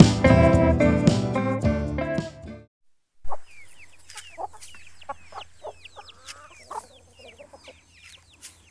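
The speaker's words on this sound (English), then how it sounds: "So chickens are the backbone of our homestead." Music plays briefly, then stops, and a flock of chickens clucks and chatters in short, scattered calls close by.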